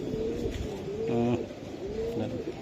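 Low, rolling coos from a racing pigeon, repeated a few times close by over a steady background hum.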